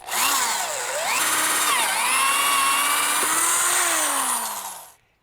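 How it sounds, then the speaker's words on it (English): A power drill bores into a workpiece backed by a piece of scrap lumber on a tabletop, its motor whining loud and steady for about five seconds with pitch dips as the bit bites, then stopping. "I put a piece of scrap lumber underneath what I'm drilling"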